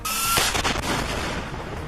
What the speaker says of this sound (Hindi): इजरायली एयरक्राफ्ट्स और ड्रोन को सैम 7 मिसाइलों से निशाना बना रहे हैं।